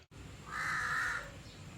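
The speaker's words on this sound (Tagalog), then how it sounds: "Ang ingay ng uwak." A crow gives a single loud caw on a quiet morning, one short harsh call alone against faint background noise.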